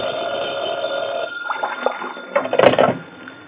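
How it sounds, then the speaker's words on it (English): An old-time telephone bell rings in a radio detective drama, a sustained electric trill that cuts off and then gives way to a few louder, clattering bursts as the receiver is handled, with no voices heard. "I'd gone back to my office to cool my heels for a while when the phone rang"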